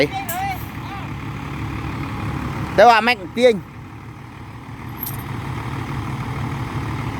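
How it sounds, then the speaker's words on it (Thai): A heavy farm tractor rumbles low and steady while pulling out a vehicle stuck in mud, with two short, loud tonal bursts midway and people talking over the engine. "เดี๋ยวเอารถหนักมาดึงครับ ไม่ขึ้นนะครับ นี่ รถไถ"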